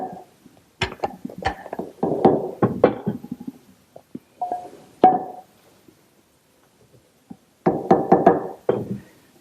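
Sharp wooden knocks and taps in short bursts as center holes are punched into the ends of a wooden lathe blank, close and distinct with quiet gaps between groups of strikes.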